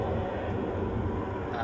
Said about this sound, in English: while there is a plane, it's very noisy, you can hear that